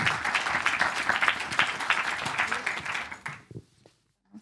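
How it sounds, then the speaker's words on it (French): Audience applause at a French talk with Les Bureaux du Cœur, dense close clapping for about three seconds before tapering off abruptly into near silence. "On les applaudit ?"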